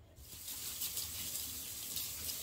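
A kitchen tap runs hot water to moisten a towel, a steady broadband gush that continues evenly and nearby throughout, with no talking.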